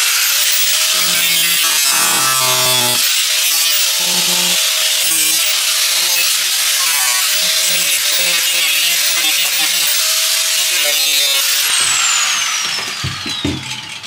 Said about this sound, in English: As I'm using the grinder, I gotta be careful that I don't pierce the skin of the van